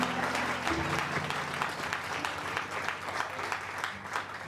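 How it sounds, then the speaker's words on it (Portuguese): A church congregation claps hard in steady, dense applause at a Catholic rosary gathering, with a low droning hum beneath the clapping throughout. "Aplaude com força,"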